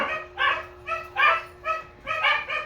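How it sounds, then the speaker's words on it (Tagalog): A dog barks and whimpers in a rapid series of high, tonal yelps, close by, with a steady faint hum underneath. "Kaya, maingay na ang aso."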